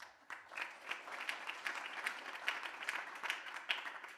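Audience at a public film funding panel clapping steadily, a quiet, distant patter of many hands lasting several seconds.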